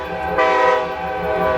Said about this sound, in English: I think that's the train I'm talking about